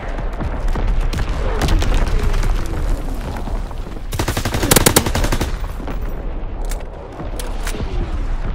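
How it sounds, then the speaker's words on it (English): Heavy gunfire rattles throughout a Call of Duty WWII battle, with rapid machine-gun bursts and a loud close volley in the middle, plus booming explosions that fit incoming mortar fire. "Firing battery one. Target position confirmed. Mortar shot out."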